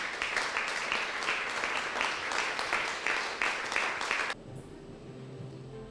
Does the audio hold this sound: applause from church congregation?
yes